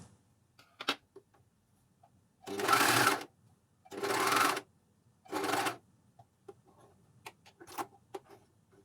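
A Juki MCS1500 coverstitch machine sews elastic onto knickers in three steady motor bursts of about a second each, close and clear, separated by quiet pauses with small clicks and handling taps.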